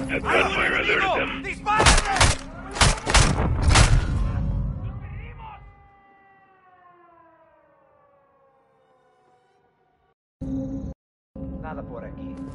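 Several loud video game gunshots crack in quick succession, then give way to a long, wavering, siren-like tone that fades to near silence before abrupt bursts of game noise return.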